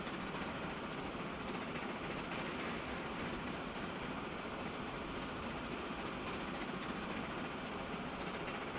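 A train in the video game Transport Fever 2 runs along at speed, a dense continuous rumbling roar of wheels and wagons that stays steady and loud throughout with no talking.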